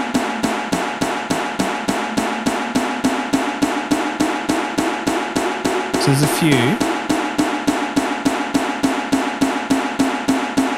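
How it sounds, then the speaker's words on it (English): A snare drum struck in a steady, fast pattern while an EQ band sweeps through its lower range, recreating the snare sound of a song. The repeated loud hits run throughout, and someone speaks briefly over them partway through. "I'm gonna sweep across the lower part of the snare drum range, somewhere from 200 to 300 probably"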